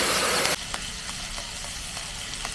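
Loud sizzling of prawn masala curry in a hot pan cuts off abruptly as water is poured in, leaving a softer simmering hiss with a few light stirring taps.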